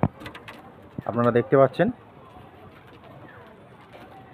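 Pigeons, young birds of a high-quality breed kept in a home loft, coo in a short burst of repeated throaty calls close by, with a person talking briefly before and quieter background bird sounds after.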